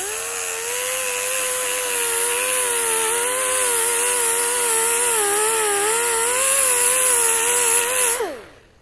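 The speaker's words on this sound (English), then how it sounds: "we'll go ahead and start sanding a little bit of this weld down" A power sander grinds down a weld seam on sheet metal, making a loud, continuous high whine that wavers slightly in pitch and then spins down abruptly at the end.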